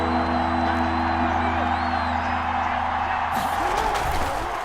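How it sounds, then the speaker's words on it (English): A stadium crowd in Madden NFL 21 roars steadily across the whole stretch before a big third-down play, a dense, loud wash of cheering that swells further near the end, with a low steady hum underneath. "The crowd getting into it as we come up on a big 3rd down."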